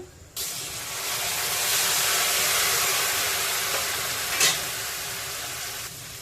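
Red snapper sizzles in hot oil in a loud, continuous hiss that starts abruptly, with a brief louder burst near the end.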